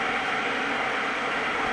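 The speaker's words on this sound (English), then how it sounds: "If you can hear noise in the background, that is my tea kettle going." A tea kettle heating on a kitchen stove gives a steady, broad hissing rush with no breaks, continuous and moderately loud throughout.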